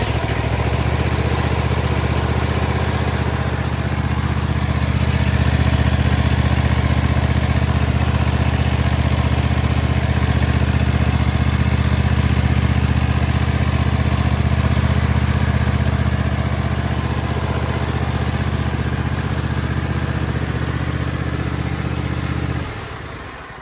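A Kohler 7000 series engine on a Cub Cadet ZT1 zero-turn mower runs steadily at a loud, constant, low rumbling idle for over twenty seconds, then cuts off abruptly at the end.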